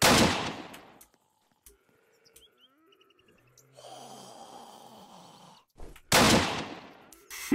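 Gunfire in the zombie survival game Apocalypse Rising: a sharp shot opens, with scattered clicks, a faint mechanical whir and chirps in between, then loud close reports crack near the end.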